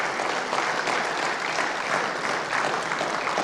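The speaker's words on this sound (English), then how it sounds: "Big applause for everyone who won," Sustained applause for award winners at a club meeting's awards night, a steady dense clapping crowd filling the room with no break.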